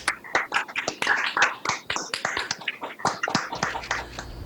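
Trustees clap at a commencement ceremony to approve the conferring of degrees, a fairly close scattering of sharp individual claps with uneven rhythm, steady for several seconds with no talk over it.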